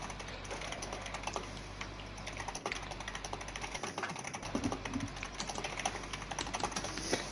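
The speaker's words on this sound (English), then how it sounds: "Someone's typing furiously." Rapid, furious typing on a computer keyboard, a dense stream of clicking keystrokes close to the microphone over a steady low hum, with no voices.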